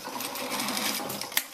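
A sewing machine stitches along the seam of a pair of hot pants trousers being altered, running in a fast, steady mechanical chatter that ends with a short clack.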